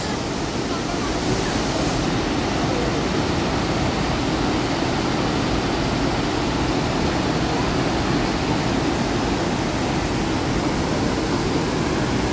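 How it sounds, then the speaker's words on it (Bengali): Dassam Waterfall near Ranchi pours down with force, a loud, dense, unbroken roar of rushing water filling the whole scene, steady and close throughout. "নিচে জলটা পড়ছে, খালি দেখো এখানটা কি ফোর্স।"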